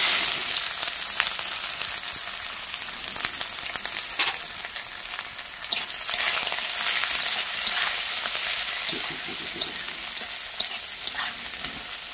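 Onions frying hard in hot oil with bay leaf and panch phoron, a dense, steady sizzle with occasional stirring scrapes, close and loud throughout with no talking.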